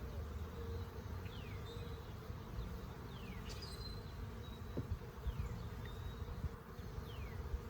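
Low, steady buzzing of many honeybees close by at an open hive during frame transfers, a continuous hum with occasional higher whines as individual bees pass.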